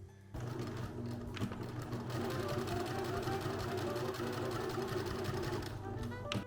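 A sewing machine runs steadily for about six seconds, stitching the sleeve seams of a drop shoulder tee with a continuous close mechanical whir and hum.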